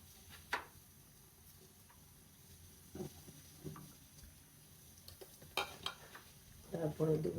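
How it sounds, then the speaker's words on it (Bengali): Dried red chillies go into hot oil for a tomato pickle, bringing a faint sizzle with scattered utensil taps and scrapes against the pan and a brief louder crackle near the end, close but quiet. "এখন দিয়ে দেবো শুকনো মরিচ"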